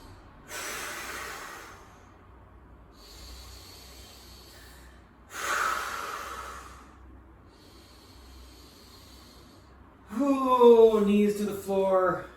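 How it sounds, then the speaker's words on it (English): Slow breathing while holding a plank during a yoga session: two long, airy breaths at moderate volume, then a louder voiced sound near the end as someone talks. "3 more breaths in the plank."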